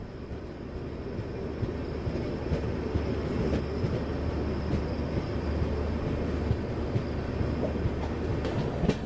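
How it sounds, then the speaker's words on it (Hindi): The Hubli Superfast train passes at speed at Mathura Junction, a steady, loud rumble and rattle of rolling wheels that holds throughout with no voices. "हुबली सुपरफास्ट मेरे ख्याल से यहां से भी निकल गई। काफी तेज आई है वो गाड़ी भी।"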